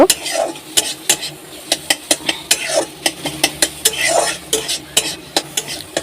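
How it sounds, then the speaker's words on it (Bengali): Maggi noodles stirred in a pan over a high gas flame, with repeated sharp scrapes and clinks of a utensil against the pan in an uneven rhythm over a faint sizzle, close and fairly loud, with no talking. "নেড়ে নেবো এটা আমি ভালো করে নেড়ে নেব"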